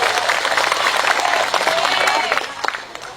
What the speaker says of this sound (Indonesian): Tepuk tangan untuk Karang Taruna Ciganda